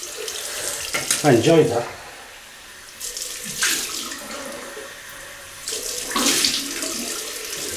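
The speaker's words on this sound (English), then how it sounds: "we'll rinse off with cold water" Cold water runs from a tap while a face is rinsed after a wet shave, splashing in bursts. A short spoken remark sits over the start.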